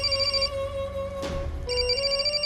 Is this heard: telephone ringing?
yes